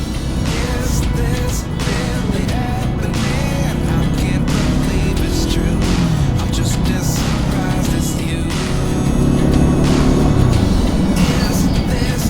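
Heavy road traffic on a highway ride on a Pulsar NS 200 motorbike: a continuous loud roar of engines and wind, with vehicles revving and passing close by throughout.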